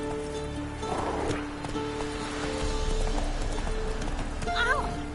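Roach the horse in The Witcher 3 trotting with steady clip-clop hooves under continuous game music and ambience, ending in a brief whinny-like call near the end.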